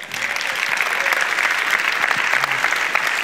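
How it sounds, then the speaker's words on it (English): A church congregation in Elk River, Minnesota, applauds in a steady, dense wash of clapping that holds at even loudness throughout, with no pause. "Can you give him a round of applause?"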